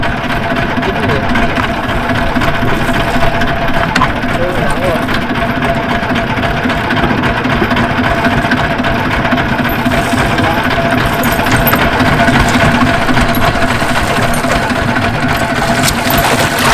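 A motorboat engine drones steadily and loudly throughout while fishing on the Vàm Cỏ River, with people talking over the constant running hum.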